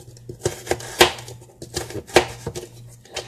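Sharp, uneven chopping clacks repeat in quick bursts, close and fairly loud, as a hand-operated mini chopper cuts onion, with a low steady hum underneath.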